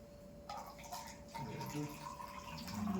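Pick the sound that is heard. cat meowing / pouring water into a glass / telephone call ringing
pouring water into a glass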